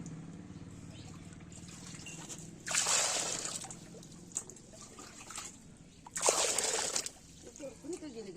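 A live tilapia from the Godavari river thrashes in water, making two sharp splashing bursts a few seconds apart between quiet trickles, with people talking softly nearby.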